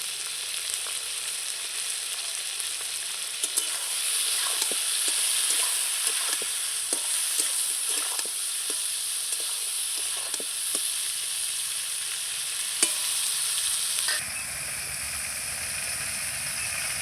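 Brinjal (eggplant) seasoned with salt and turmeric sizzles in hot oil in a pan, with a steady frying hiss and repeated scraping clicks as it is stirred, then a quieter sizzle at the end.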